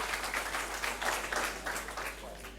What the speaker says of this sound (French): On applaudit encore pour elle s'il vous plaît.